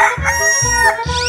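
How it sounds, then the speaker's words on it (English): A cartoon chicken clucks and crows in quick, loud, close repeated bursts, with a bright, squawky tone and no voices. "Chicken."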